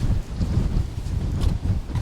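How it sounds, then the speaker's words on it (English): Wind blows hard outdoors on a trail on Santa Rosa Island, a low gusting rumble buffeting the microphone in uneven surges. "It's a pretty windy day out."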